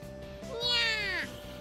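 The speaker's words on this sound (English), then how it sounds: "Lured by the sound of our voices, the black cat pops up out of nowhere." A black cat in a visual novel game gives a single drawn-out meow, rising and then falling, clear and close against quiet background music.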